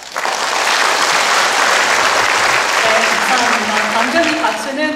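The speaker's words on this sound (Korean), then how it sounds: "방금 이 박수는 공감하신다는 뜻의 박수가 아니었나라는 생각이 듭니다" Audience applause fills a city hall town meeting with the mayor in Mungyeong, loud, dense clapping starting abruptly and sustained evenly throughout, with a few voices rising near the end.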